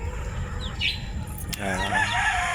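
Seven-month-old chickens kept as future breeder hens cluck and squawk close by in a covered range pen, short bursts over a steady low background hum.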